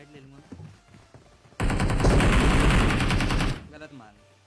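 Rapid automatic gunfire from the PUBG Mobile battle royale game, a loud dense burst of shots lasting about two seconds, with quieter game sounds before and after.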